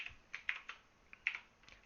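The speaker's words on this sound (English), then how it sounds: "I hit the wrong button on my keyboard" Quiet typing on a computer keyboard during a physics lesson on collisions, a handful of sharp, close keystrokes and clacks spaced unevenly, with no talking.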